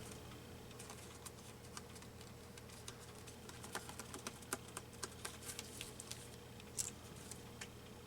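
Scissors snip through paper while a stamped card is being made, a quiet string of small irregular clicks and crisp cuts close by, with no talking.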